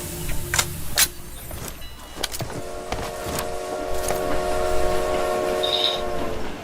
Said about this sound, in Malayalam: ട്രെയിൻ വന്നേ.